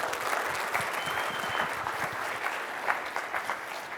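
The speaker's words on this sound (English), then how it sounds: "And so you guys should give yourselves a round of applause" Sustained applause from a leadership retreat audience at a general session, steady clapping from a full room with a light crowd murmur, fairly close and even throughout.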